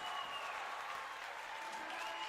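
A college volleyball crowd, Alaska Nanooks against Alaska Anchorage, roars on its feet at set and match point. Dense, loud cheering and applause fill the whole stretch without letup.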